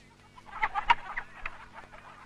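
Chickens cluck faintly in short, scattered bursts among brief clicks and background clatter at a spot where people come to buy poultry.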